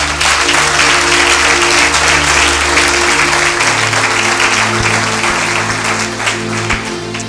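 A church congregation applauds loudly and steadily for several seconds, a dense continuous clapping from a crowd that stays strong throughout, with a steady low hum underneath.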